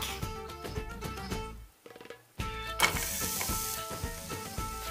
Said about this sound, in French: on va faire revenir les échalotes